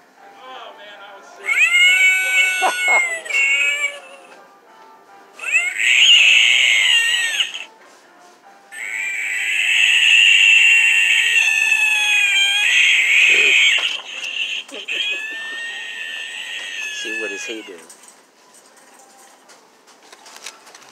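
A Halloween screaming cat toy lets out three long, electronic, shrill yowling meows, loud and close, separated by short pauses with handling clicks in between.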